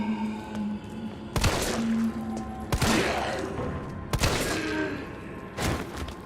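Four sharp, loud gunshots ring out one after another at even intervals during Resident Evil 3 play, each with a booming tail, over a quiet background of game ambience.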